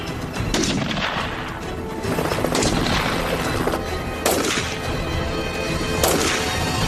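Gunners fire round after round at a boat target on the water, repeated sharp reports and booms landing roughly every second or two over a steady loud background rumble, with no talk.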